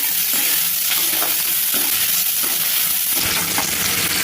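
Green chillies, raw rice and salt sautéing in a pan as mango pachadi is cooked: a loud, dense continuous sizzle with a few soft stirring scrapes, close and with no talk.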